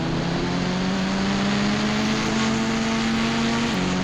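A helicopter arriving in the Indian Bike Driving video game, a loud steady engine drone with a sustained tonal hum that holds evenly and dips slightly near the end, with no talk over it.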